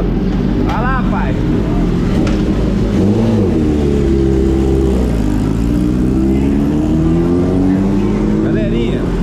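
A Kawasaki Ninja ZX10R track motorcycle engine revs loudly up close, its rising and falling pitch sustained throughout, with someone talking over it.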